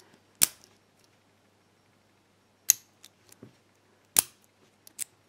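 Sharp, isolated metallic clicks from a lock with a wide-open keyway and a weak spring as it is picked and opens. About three louder snaps come with a few softer ticks between them, close up and against near silence.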